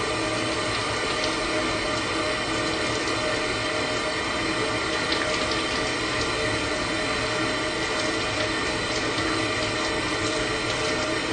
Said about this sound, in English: Turn my water on by using my knee or foot here.